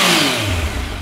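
A Yamaha MT-09 850cc three-cylinder motorcycle engine revs up briefly, a loud, close, rising engine roar that fades slightly at the end.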